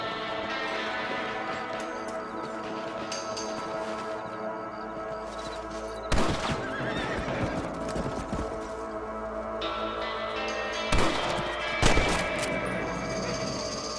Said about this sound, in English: Get your rifle out. It's about time these little thieves met their maker.